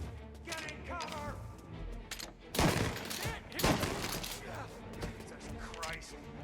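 Gunfire crackles through a shootout in Mafia Definitive Edition, with bursts of shots and crashing impacts clustered mid-clip, all mixed under tense shouted game dialogue.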